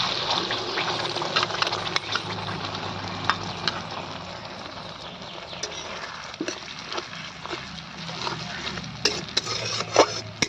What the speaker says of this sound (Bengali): পেস্ট করে রাখা টমেটো আর পেঁয়াজটা এর মধ্যে দিয়ে দেবো